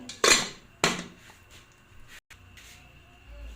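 A metal lid clanks onto a cooking pot of law-oy vegetable soup, two sharp close clinks followed by softer small rattles in a quiet kitchen.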